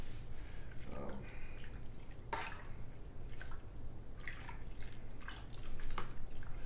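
A spoon stirs maltodextrin into a Russian imperial stout brew, making soft, wet sloshing, dripping and squishing sounds in irregular bursts over a low, steady background hum.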